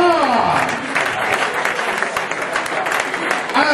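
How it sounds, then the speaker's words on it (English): Crowd applause at an amateur boxing event after a unanimous decision, steady and fairly loud clapping from the audience with some cheering mixed in, continuing throughout. "can we have a massive round of applause for our blue corner, Andy Moore"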